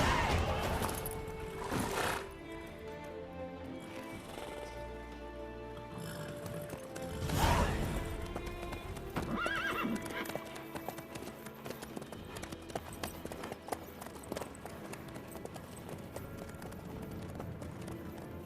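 Hooves of a ridden horse in The Witcher 3 on PS5, a steady clip-clop running throughout with a few louder thumps and clatter, under game ambience with faint speech at times.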